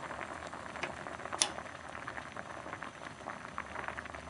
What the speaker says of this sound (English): But keep it at a strong boil.